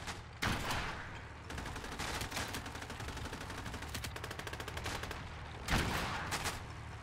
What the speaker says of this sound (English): AA guns opening up